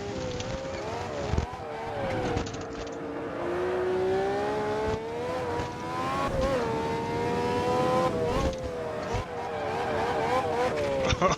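Vintage Formula 1 car in a racing game drifting around a corner at Brands Hatch, a loud sustained engine drone that rises and falls in pitch as the throttle is worked, with brief shifts and bumps along the way.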